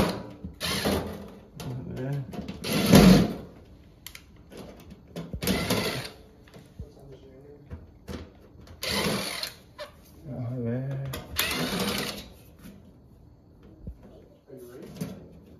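Screws go in while a Samsung multi-door refrigerator is being reassembled. Several short bursts of whirring power-driver sound come close by, separated by pauses, with someone talking in between.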